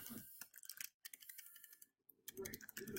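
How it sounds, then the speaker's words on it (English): Quick bursts of clicky keystrokes on a computer keyboard, close and fairly quiet, stopping briefly twice before the rapid tapping resumes. "not my best day typing"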